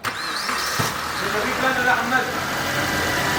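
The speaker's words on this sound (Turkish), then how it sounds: "Araca marş yapıyoruz. İlk sesini bir duyalım." A Suzuki Grand Vitara with an overheating, coolant-pushing fault is cranked and settles into a steady, loud idle with a rough, uneven note, while someone speaks over it.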